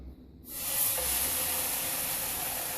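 Bologna frying in a pan on a stovetop, heard as a steady, bright sizzling hiss that starts abruptly and then holds level and fairly loud until the end.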